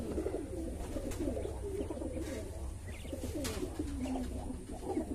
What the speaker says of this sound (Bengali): এখানে আছে কোয়েল পাখিগুলো।